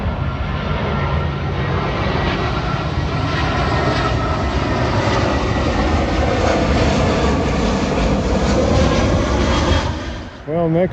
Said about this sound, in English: Here comes a Delta Airlines A320 from Miami.